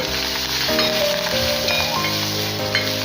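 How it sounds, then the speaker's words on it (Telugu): Green chilies, curry leaves and asafoetida fry in hot oil in a pan for mango rasam, a loud steady sizzle close by with occasional stirring scrapes. "ఇంగు వేశాక ఇలా ఫ్రై చేసుకుంటేనే ఆ ఫ్లేవర్ గుమగుమలు ఆడిపోతుంది"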